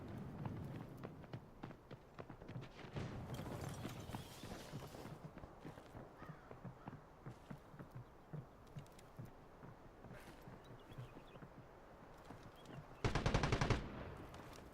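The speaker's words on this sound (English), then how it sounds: "Are they just shooting bots loudly?" Gunfire in the shooter Delta Force: rapid automatic bursts, faint and distant under a constant rumble of footsteps and movement, with a louder close burst near the end.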